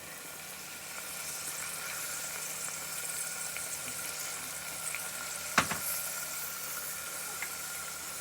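Tomatoes tipped into a pan of frying potatoes and peas for aaloo matar sabzi, giving a steady, moderate sizzle throughout with a brief sharp clatter partway through; no one speaks.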